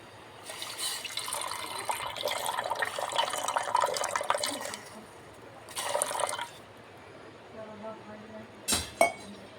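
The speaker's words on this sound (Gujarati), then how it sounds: "હવે પાણી નાખી દઈએ." Water goes into a pot for Maggi noodles in a home kitchen, with a splashing, clinking pour lasting several seconds, a shorter second pour, then a couple of sharp knocks at the end.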